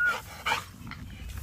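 Dog barks in two short bursts, close and fairly loud, with a handler's shouting nearby in a yard setting.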